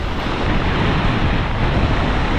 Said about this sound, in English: The wind's coming from the total opposite direction now as well.